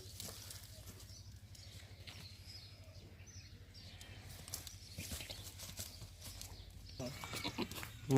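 Goats on a farm shuffle and step about, with scattered hoof clatter and soft animal noises at close range, growing a little busier toward the end, no speech.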